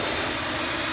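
An aircraft engine at Manchester Airport drones in a steady, loud broadband roar that stays even throughout the short stretch, with no clear rise in pitch.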